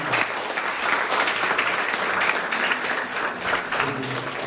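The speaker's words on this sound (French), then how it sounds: "Applaudissons pour nous." A church congregation at a French-language service applauds together after a prayer, with dense, even clapping that stays loud and continuous for several seconds.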